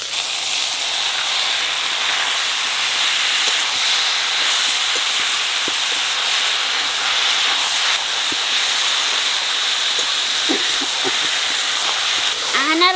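Taro leaves dropped into a hot pan with garlic and green chillies give a loud, steady sizzling hiss that lasts throughout, with a few faint utensil clicks near the end.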